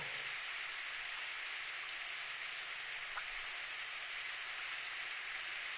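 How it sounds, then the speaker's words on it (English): Steady rain falls in the Steins;Gate video game, a dense and continuous hiss with no pauses that stays even at a moderate level for the whole stretch, with no voices over it. "It was raining that day too."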